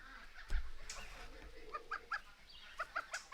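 Young goslings calling on a Canadian homestead, a series of short, high peeping chirps in small clusters, fairly close, over faint outdoor background noise.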